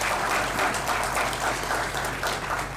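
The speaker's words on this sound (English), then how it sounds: "I want that we should also give a big clap to them" A conference audience applauds, a dense, even wash of clapping from many hands that holds steady throughout, fairly loud and with no talking over it.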